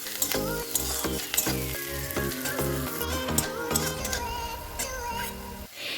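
Crushed garlic frying with wild forest mushrooms in a pan, a continuous sizzle with sharp clicking ticks of a spatula against the pan, heard under tonal background music with no speech.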